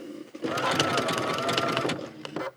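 A domestic sewing machine stitches a buttonhole in a steady, close whirring run of about two seconds, then stops with a brief mechanical clatter.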